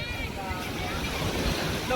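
Waves breaking on a Lake Michigan beach at Indiana Dunes, heard as a continuous rushing wash with gusty wind buffeting the microphone, close and fairly loud throughout.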